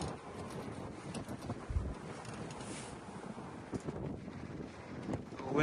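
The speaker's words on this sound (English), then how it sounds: "A little windy out there today" Wind buffets the microphone in gusty, rumbling bursts outdoors beside a Chevy Blazer EV SS, with a low roar rising and falling throughout.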